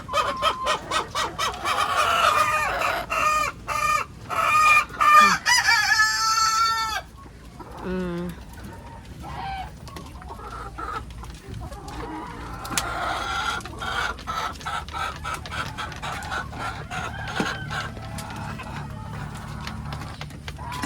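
Chickens cluck and squawk in a poultry house, with busy, close bursts of calls early on that ease into a steadier chatter of clucking, plus occasional sharp knocks.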